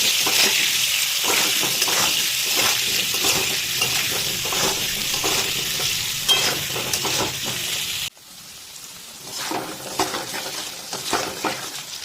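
Steady sizzling of potatoes frying with salt and turmeric in a pan with irregular scraping from stirring, continuous and fairly close, dropping briefly quieter partway through.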